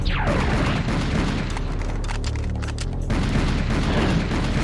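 Gunfire in the video game Serious Sam: a dense run of loud, booming shots, one after another, over a constant roar of action with no talking.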